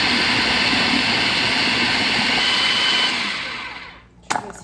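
A kitchen blender whirs loudly and steadily while blending chickpeas and garlic cloves for hummus, then winds down and stops, followed by a brief clunk.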